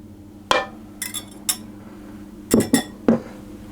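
Spices stirred into flour in a bowl, a spoon striking the bowl in several separate clinks and knocks, some in quick pairs, over quiet room tone with no talking.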